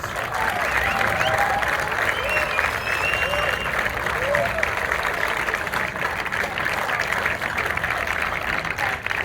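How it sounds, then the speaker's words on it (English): Loud, sustained applause from a large crowd, dense clapping that holds steady throughout with some cheering mixed in. "So can I have a big round of applause for Kath, please?"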